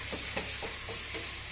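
Local chicken meat sizzles while being fried, with soft rhythmic scrapes of stirring about four times in under two seconds, fairly quiet and close, with no talking.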